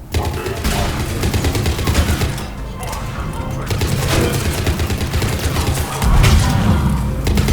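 Turret gunfire in the Mass Effect video game, a loud, continuous barrage of rapid shots and booms with brief lulls, heavy and sustained throughout.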